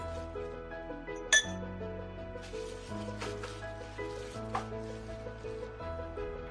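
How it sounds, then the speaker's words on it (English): A drinking glass gives one sharp clink as soil is put into it, heard over steady tonal background music with faint soft scraping. "Now we put some soil in this glass."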